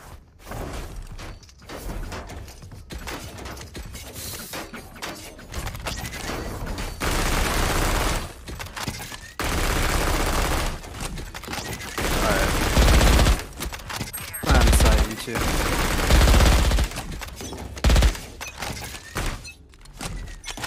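Rapid bursts of Judge shotgun fire ring out in a ranked Valorant match on the Split map, with repeated loud blasts and mechanical clunks amid other gunfire while players talk over comms.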